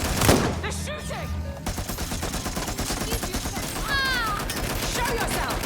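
Gunfire crackles through a Watch Dogs Legion firefight, with a loud opening burst giving way to continuous rapid shots while voices call out in the mix.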